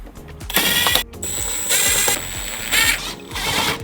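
A ratchet backing out 8mm screws that hold the bumper of a BMW F80 M3 or similar M car, rapid metallic clicking in several close bursts with short pauses between turns.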